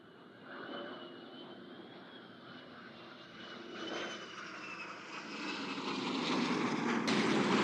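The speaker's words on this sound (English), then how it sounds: "three aircraft approaching from behind the cloud for the breakup pass" Three military aircraft approach for a breakup pass at the NAS Oceana air show, a steady engine roar that swells gradually louder over several seconds, distant at first and building toward the end.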